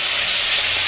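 A pot of milk boiling over on a home kitchen stove: a loud, close, continuous hiss of steam that runs without a break through the short moment.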